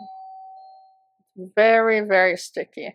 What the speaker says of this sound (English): Sorry, that was my doorbell.